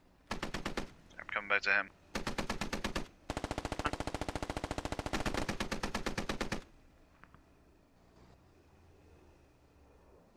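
Automatic rifle fire in the tactical shooter game Squad, several long sustained bursts from close by, broken by brief gaps and ending in quieter ambience, with a short spoken remark over the shooting.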